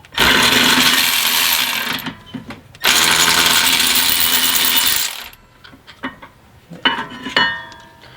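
A power tool loosens a brake caliper bolt on a Nissan 350Z during a brake kit upgrade. It makes two long, loud, harsh whirring bursts with a short pause between them, then trails off into quieter clicks and clatter.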